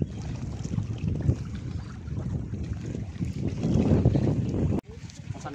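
A small wooden fishing boat's engine runs steadily close by, with wind buffeting the microphone and water noise over a low continuous rumble that cuts off briefly near the end.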